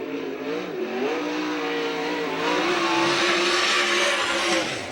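USAC/CRA sprint car on a qualifying lap at Santa Maria, California, engine roaring loud and steady at high revs with slight pitch wavering, sustained throughout.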